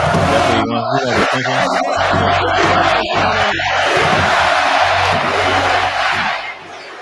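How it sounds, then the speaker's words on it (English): A crowd yells, whoops and cheers loudly for a guest on a talk show, a sustained roar of many voices close by that fades out near the end. "Let's give him a round of applause."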